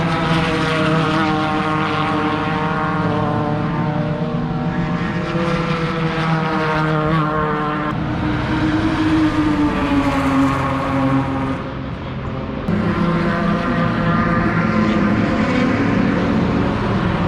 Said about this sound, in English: So here they come. You can hear them,